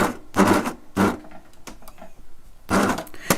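Overlocker (serger) stitching fabric for a cushion, running in short bursts of mechanical whirring separated by pauses, close and fairly loud.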